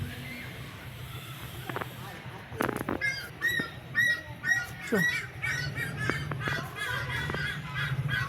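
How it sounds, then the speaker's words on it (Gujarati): A bird squawks repeatedly in harsh, rhythmic calls at a moderate distance, against steady outdoor background noise. "અત્યારે આ કંઈ પક્ષી બોલે છે ક્યાં હોય એ મને ખબર નથી"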